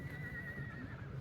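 A horse at the Sarangkheda horse fair gives a sustained, moderately close whinny with a steady tone, set against a busy fairground murmur.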